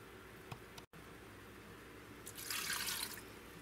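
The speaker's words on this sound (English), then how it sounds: "go ahead and add the 4 cups of water to our Instant Pot" Four cups of water are poured into an Instant Pot, a faint trickle and splash building into a brief steady pour near the end, with a few small clinks earlier.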